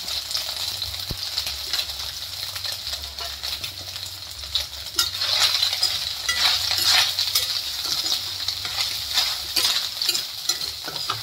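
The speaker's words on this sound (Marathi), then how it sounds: "आता आपण सोयाबीनला फ्राय करून घेऊया।" Soybean chunks sizzle steadily in a hot pan, with a spoon scraping and stirring now and then. No one speaks.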